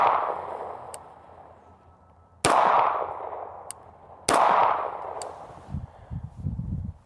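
A Kimber 2K11 Eclipse pistol fires outdoors: the decaying tail of one shot opens, then two loud, sharp reports ring out about two seconds apart, each followed by a long fading echo.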